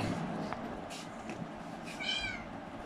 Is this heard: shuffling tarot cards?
no